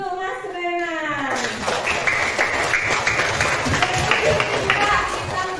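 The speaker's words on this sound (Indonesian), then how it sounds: "Tepuk tangan untuk Mas Renan" Classroom applause from children, quick clapping that starts after a teacher's voice and continues busily with kids' voices mixed in, close and fairly loud.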